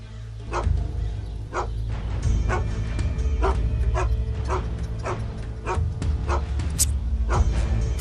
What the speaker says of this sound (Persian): اون سگ لعنتی را آرام کن.